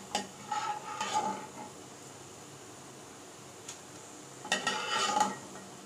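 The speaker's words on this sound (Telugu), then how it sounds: "ఫ్రై అయినటువంటి ధనియాలను కూడా అదే ప్లేట్లోకి వేసుకుందామండి." Fried coriander seeds are scraped out of a pan onto a plate, heard as two short bursts of close metallic scraping and clinking with a quiet pause between them, and no voices.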